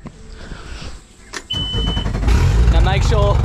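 A boat engine cranks and catches, then settles into a loud, steady running roar, with people talking nearby as it starts.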